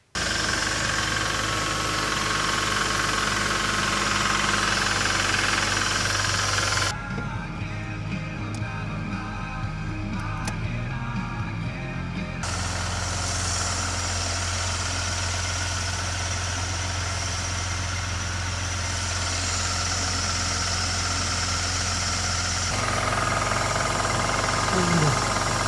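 A Toyota Land Cruiser FZJ105 engine runs at a steady idle, a continuous close mid-pitched hum with a short stretch of shifted tone partway through.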